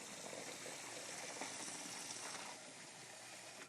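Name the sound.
pasta water draining into a colander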